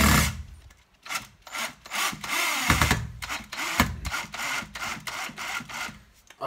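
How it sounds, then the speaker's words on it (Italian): A Parkside 20 V drill driver of about 32 Nm strains to drive a screw, its motor whirring in loud, uneven bursts with brief pauses and grinding, close up, no talking. "Vediamo se riesce ad avvitarlo."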